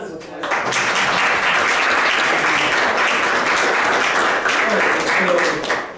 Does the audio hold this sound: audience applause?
yes